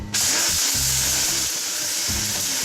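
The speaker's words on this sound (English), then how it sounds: "So now you're just going to turn that on and All set, blend them." A blender whirs steadily while blending strawberry snow for a panna cotta dessert, a loud continuous motor drone with slight pitch shifts as the contents churn, close up and without talk.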